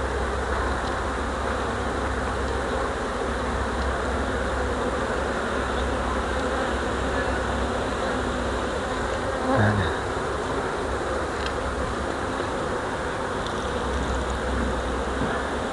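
Honey bees swarm around open hives while frames of honey and pollen are handled, a dense continuous buzzing drone close to the ear, steady throughout with one brief louder pass midway and no talking.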